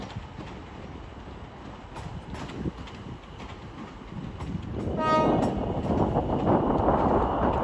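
A Class 350 train at Watford Junction on the West Coast Main Line, its rumbling approach growing louder and closer, with a short horn-like tone and steady rolling noise toward the end.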